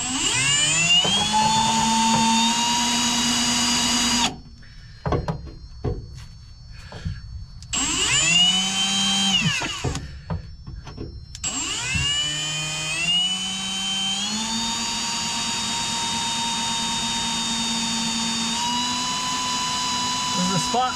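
Spot weld bit drilling out spot welds on a Chevelle during rear bumper and valance removal, a loud continuous high-pitched whine with rising and falling pitch, broken by short pauses and restarts.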